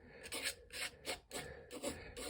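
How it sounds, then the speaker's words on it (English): A painting knife scraping paint off a painted desert landscape, several rasping strokes in a broken rhythm, close and clear with no talk. "See how if we just scrape."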